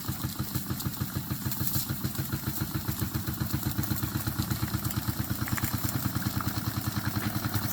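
Small SEL 1530 model steam engine running, giving a fast, even chuffing beat that stays close and fairly quiet, steady throughout with no talk over it.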